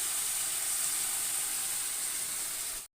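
Food frying in a pan with turmeric powder, a steady bright sizzle and hiss that holds evenly for a few seconds before cutting off abruptly.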